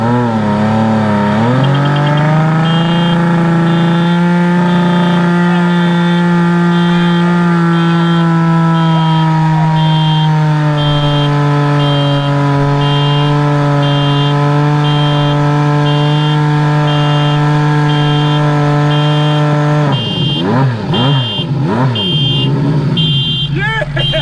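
A turbocharged Honda CBX1100 motorcycle doing a burnout, its engine held at a loud steady high-rev drone for a long stretch, pitch shifting slightly, then dropping and wavering near the end as the throttle is worked.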